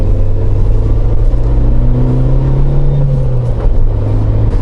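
A steady engine drone and rumbling road noise fill the cabin of a moving new Suzuki Jimny small SUV, loud and continuous throughout, with no speech.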